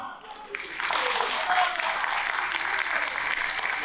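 After a brief pause, an audience at a festival concert hall breaks into loud, dense applause that holds steady for several seconds.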